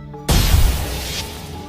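Explosion sound effect in an audio drama: a single sudden deep boom bursts in after brief quiet, then rolls into a long rumbling, crackling decay.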